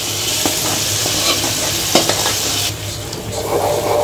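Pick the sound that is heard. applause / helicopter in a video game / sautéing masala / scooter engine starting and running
sautéing masala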